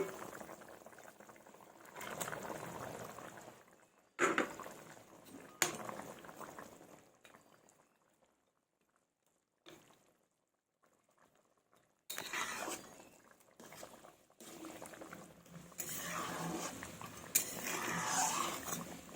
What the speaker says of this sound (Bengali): ঝোলটা আমার টকবক করে ফুটে গেছে।